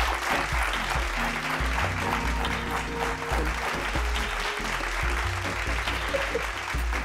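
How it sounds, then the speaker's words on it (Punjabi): A studio audience at a Punjabi television talent show applauds steadily and loudly throughout, dense clapping with no voices above it. "ਤਾਲੀਆਂ ਵਜਾ"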